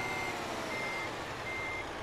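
A truck in Euro Truck Simulator 2 backs up with a faint, steady reversing beeper over a constant low engine drone.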